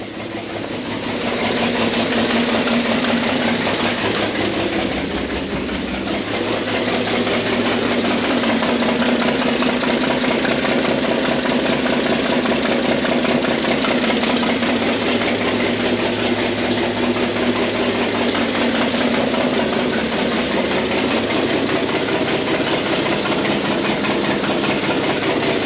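An old engine, run again after sitting for 15 years, idles with the choke on in a loud, steady rumble with a slightly uneven, knocking beat. The sound holds close and constant for the full stretch, with no talking over it.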